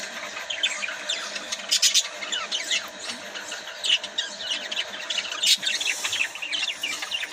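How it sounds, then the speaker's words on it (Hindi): Many small pet birds kept at home chirp and tweet at once in a busy, constant chatter, close by and moderately loud. "बाकी शोर जो आपको पीछे सुनाई दे रहा है वो मेरे बर्ड्स का है"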